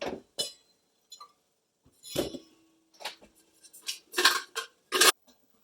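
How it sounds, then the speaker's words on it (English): Ice clinks against glass as a lime cocktail is stirred, a series of short bright clinks and rattles spread out in bursts, close and fairly clear, with no talking. "We will stir that, add some more ice."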